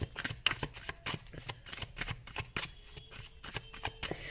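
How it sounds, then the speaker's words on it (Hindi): Tarot cards being shuffled and drawn, a continuous run of close, crisp riffles and flicks at an uneven rhythm with no talk over them. "अब बाकी के हम कार्ड्स निकाल कर देखेंगे"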